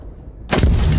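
Bangalore's smoke launcher in Apex Legends fires with a sudden loud boom-like burst after half a second of near silence, followed by a sustained roaring hiss of smoke.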